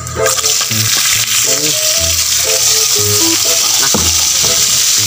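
Crab fries in a pan for spicy adobo with a loud, close sizzle, joined by intermittent clatter and tonal knocks from the cookware.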